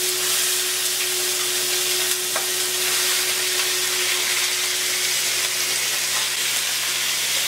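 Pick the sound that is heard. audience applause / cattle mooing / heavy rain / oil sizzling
oil sizzling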